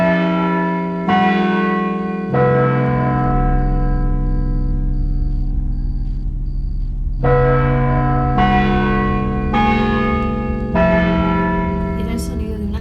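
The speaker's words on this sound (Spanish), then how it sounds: "Era el sonido de una campana." A large bell tolls again and again in slow, even strokes, each ringing tone sustaining and overlapping the next, loud and close, with no voices.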